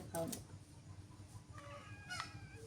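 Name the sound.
chicks (young chickens)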